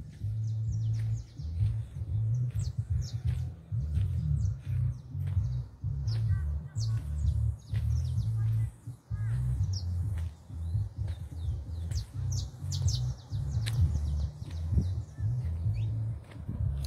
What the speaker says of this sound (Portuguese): E a gente já vê os passarinhos desalojados.